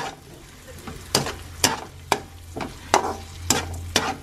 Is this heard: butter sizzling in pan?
yes